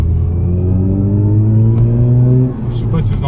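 A Mazda RX-8 240 hp rotary engine revs loudly and steadily under acceleration, its deep harmonic drone rising in pitch and then easing off near the end, with a voice talking over it.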